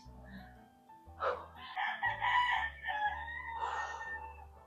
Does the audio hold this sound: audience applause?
no